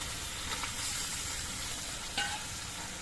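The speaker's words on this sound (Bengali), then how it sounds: "এবার এর মধ্যে আমি ভাজা পটলগুলো দিয়ে দিচ্ছি" Fried pointed gourd tipped into a masala cooked down with sour yogurt sets off a dense, even sizzle with light stirring scrapes, close up and without speech.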